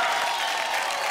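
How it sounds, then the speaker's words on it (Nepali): Applause and cheering from a talent-show audience at Nepal Idol after a performance, a steady, dense wash of clapping from a large crowd that holds at full strength throughout. "महेश्वरको लागि जोरदार ताली"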